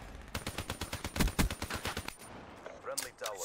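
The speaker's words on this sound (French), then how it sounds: "Je pense que je vais me passer sur le Reaper" The Reaper minigun fires in Black Ops 3, a rapid, evenly spaced burst of loud close shots for about two seconds before it cuts off into quieter game sounds.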